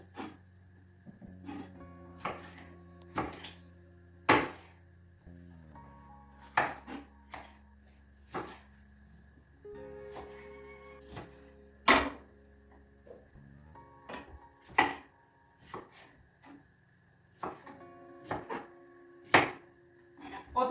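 Knife chopping yellow and red bell peppers into pieces on a board, sharp dry knocks falling in irregular bursts of several quick cuts with short pauses, close and clear over a low steady background hum.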